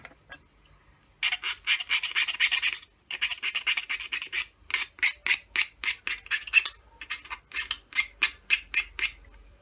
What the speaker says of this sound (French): On va y foutre un coup de lime là